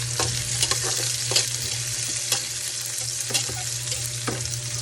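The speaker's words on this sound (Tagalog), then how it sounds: "Natutunog na yung oil natin." Cooking oil sizzling steadily in a pan, a constant bright hiss with occasional sharp crackles and stirring clicks throughout.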